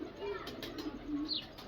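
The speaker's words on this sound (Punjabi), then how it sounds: "ਇਹ 42 ਨੰਬਰ ਕਬੂਤਰ ਹੈ ਜੀ ਮਾਨ ਦਾ।" Pigeons coo in a loft of racing pigeons, low soft calls repeating close by amid faint background chatter.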